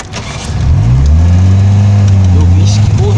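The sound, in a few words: car engine of a stalling car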